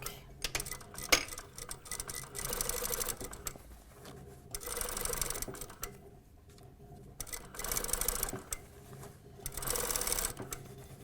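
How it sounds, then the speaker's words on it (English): A sewing machine stitches a folded fabric hem with a back tack at the start. The motor runs in several loud whirring bursts separated by brief pauses, with faint ticking in the gaps and no speech. "So I'll start sewing, back tack,"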